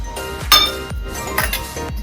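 A spoon clinks against a bowl while gram flour is stirred with lemon juice, sharp bright taps sounding about every half second in a steady rhythm, close and clear.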